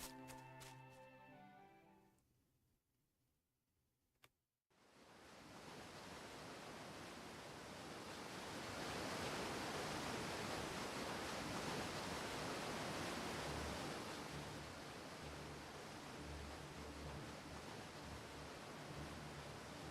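Huge jungle waterfalls roar in the game Fate Grand Order, a dense, loud, steady rush of falling water that swells after a brief quiet start and keeps pounding on without a break.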